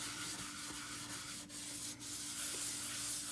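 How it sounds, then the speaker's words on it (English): Wax being rubbed by hand into a chalk-painted surface, a steady close scratchy friction with a low hum, continuous and fairly quiet with no talking. "I'm just going to pick up a little bit of our wax and rub it in."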